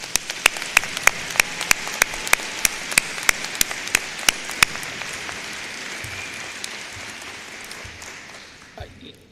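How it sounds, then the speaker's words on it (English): Applause from a commencement ceremony audience fills a large hall, a steady wash of many hands clapping with sharp individual claps standing out early, slowly fading toward the end. "Please give yourselves a round of applause"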